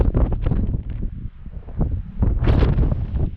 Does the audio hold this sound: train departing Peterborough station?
no